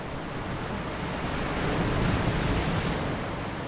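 Ocean waves breaking on a shore, heard as a continuous broad wash of surf that swells slightly midway, with no voices over it.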